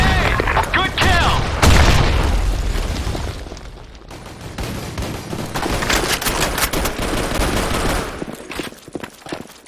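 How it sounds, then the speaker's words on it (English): Grenade blasts and rapid gunfire in a first-person shooter battle on a city map, loud overlapping bursts and booms that nearly fill the stretch, with shouted voices mixed in. "Fire in the hole! Grenade! Grenade! Grenade! Fire in the hole!"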